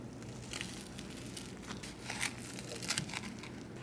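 A knife saws through a grilled sandwich of chicken and wild arugula between two slices of bread, giving close, steady crunching and crackling strokes with no talking.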